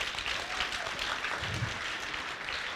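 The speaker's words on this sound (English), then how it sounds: "Give him a round of applause." A school assembly audience applauds a student, with steady dense clapping from a crowd filling the hall, moderately loud and continuous throughout with faint voices mixed in.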